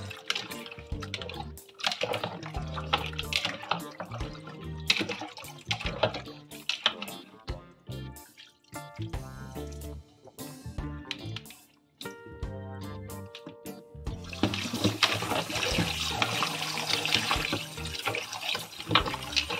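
Tap water runs and splashes while a chicken back is rinsed in a sink. Intermittent splashes and clatter give way to a steadier flowing rush near the end.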